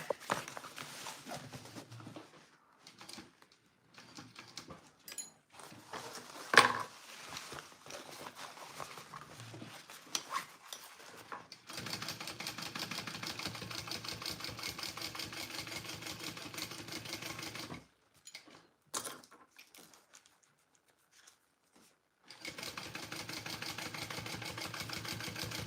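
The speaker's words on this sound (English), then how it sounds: "I'm just going to stitch the whole thing down" A sewing machine stitches down a rolltop petite backpack in steady mechanical bursts, with a long continuous run in the middle and stops between passes, heard close and fairly quiet.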